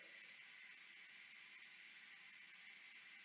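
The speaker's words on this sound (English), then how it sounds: "Looks like old Faithful at Yellowstone. Steam going everywhere." Steam hissing steadily from a pressure cooker during pressure release while cooking chicken and rice, a loud continuous broadband rush that holds unchanged throughout.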